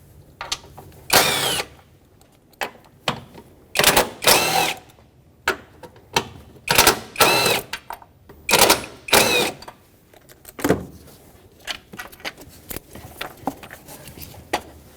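Power tool spinning off 12mm bolts from a 2006-2010 Hyundai Sonata 2.4L battery tray, heard as a series of short, loud buzzing bursts with brief pauses, close to the listener.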